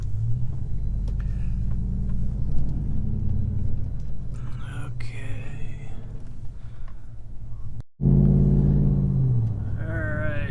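A tuned pickup truck drives on the road, its engine rumbling steadily from inside the cab and rising after a brief cutoff near the end, while someone speaks briefly.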